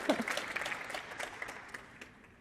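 Audience applause at the live final of a 5G AR hackathon, a sparse, fairly quiet round of clapping that starts with a few louder claps and thins out over a couple of seconds.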